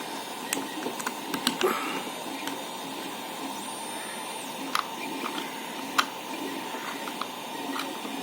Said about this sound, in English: The thing printing over there is really very interesting.